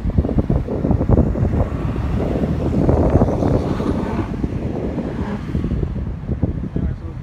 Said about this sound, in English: here comes a big truck. You hear the diesel going.